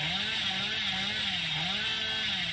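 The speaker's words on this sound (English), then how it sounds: "you're just revving your chainsaw in the middle of nowhere" In a video game, the Hillbilly character revs a chainsaw, its engine drone wavering up and down in pitch as it idles and revs continuously, fairly close and steady.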